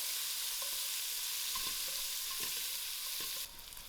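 Onions frying out in a pan for lamb shanks, a dense, even hiss of sizzling fat with a few faint stirring knocks, close and continuous, easing slightly near the end.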